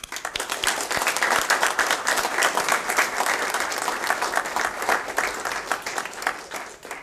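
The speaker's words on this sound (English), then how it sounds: "I think they both deserve a big, big applause for that" A crowd applauds at a talk on internationalization in Debian, with dense, sustained clapping that fills the room and rolls on evenly before tapering slightly at the end.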